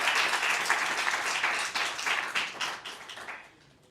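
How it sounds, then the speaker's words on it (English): An audience at a Black History Month honors ceremony applauds an honoree, a dense, steady burst of clapping that thins and fades out over a few seconds. "please join me in giving a round of applause for Reggie Anderson"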